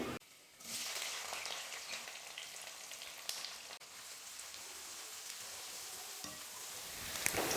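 Nine chopped small onions and curry leaves sautéing in oil for brinjal gravy give a steady, rain-like sizzle that rises after a quieter opening, with a few stirring clicks and no talking.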